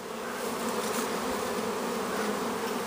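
Honey bee swarm hanging in a low tree in June, a dense continuous buzzing hum of many bees at close range, steady throughout with no voices.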